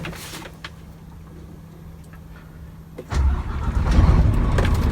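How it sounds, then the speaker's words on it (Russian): A Scania R400 tractor unit's diesel engine cranks and catches around three seconds in, then settles into a loud, steady running rumble after a quieter stretch of faint idle noise. "Мы уже его завели. Видите, двигатель работает ровно."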